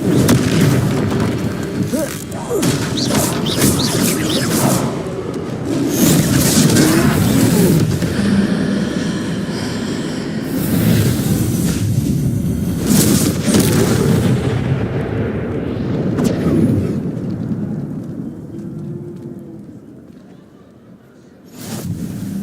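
Booming fire-spell explosions and impact blasts from a Hogwarts Legacy troll battle, loud and dense over a game score, with crashes and rumbles continuing throughout.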